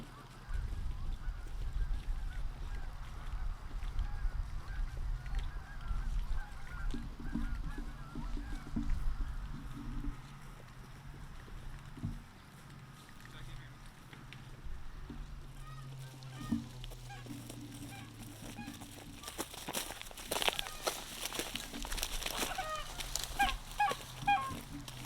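Geese honking repeatedly during an early-season goose hunt in Wisconsin, a steady chorus of calls, some near and loud, others farther off, continuing across the whole stretch with outdoor background noise.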